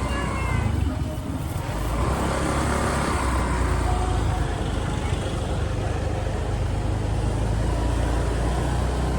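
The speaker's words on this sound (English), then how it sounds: "And even traffic jam is back." Busy street traffic in the Chaweng Center area of Koh Samui, a steady loud rumble of car and motorbike engines in a traffic jam, continuous and close throughout with a faint voice somewhere in the mix.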